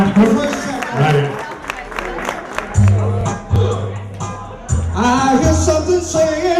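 Crowd applause and cheering for a performer at a live tribute show, a steady wash of clapping with bursts of whoops, mixed with a band's sustained low notes and a host's voice over the noise.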